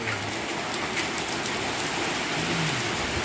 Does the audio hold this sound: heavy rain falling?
yes